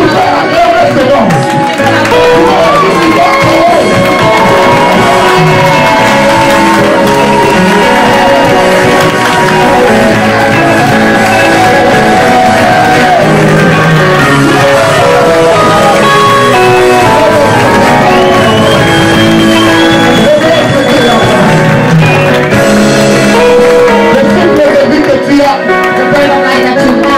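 A church congregation shouts and cheers loudly in acclamation of the name of Jesus, a dense, continuous swell of voices with whoops and bellows that carries on throughout.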